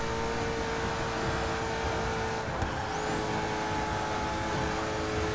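A Hennessey Venom's engine drones steadily on the Daytona tri-oval in a racing video game, a sustained loud roar with a brief tire squeal partway through, with no talk over it.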